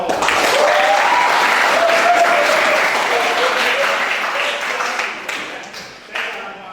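Students in a light vehicle engineering workshop classroom clap together in steady applause that tails off gradually, with a few scattered claps at the end.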